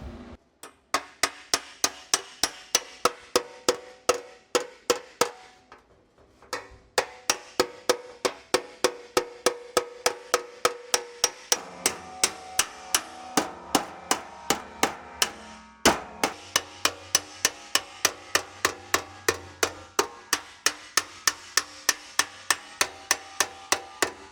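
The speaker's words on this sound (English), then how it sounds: "do this with a hammer and dolly." Hammer and dolly shaping sheet metal for a 1936 three-window car roof, ringing metallic blows struck in steady rapid runs with brief pauses between them, close and loud with no talk.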